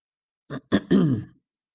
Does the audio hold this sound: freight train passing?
no